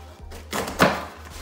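UTG 25-inch padded gun case being opened, with a soft thump and a brief rustling scrape near the end, close and moderately loud, no talking.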